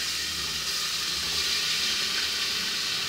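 Steady, bright sizzling of beef frying in a hot pan, a continuous crackling hiss that holds evenly throughout.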